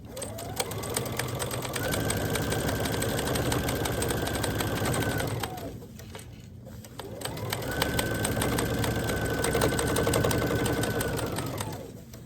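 Sewing machine stitching a fabric door hanger in two long continuous runs with a short break between, a steady close mechanical whir.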